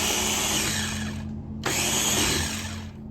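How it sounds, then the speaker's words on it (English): A small Bullet or Ninja blender whirs loudly as it blends peeled garlic cloves, running in two steady bursts separated by a brief pause near the middle, close and alone without talk. "blend these up."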